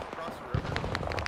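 Gunfire in Arma 3 during a Vietnam-era battle for Huế City, a few sharp cracks and pops scattered over a second amid background noise and voices.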